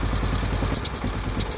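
A Case XC210 lawn mower engine, revived after sitting unused for over 15 years, runs rough and uneven under throttle, a loud close chugging clatter.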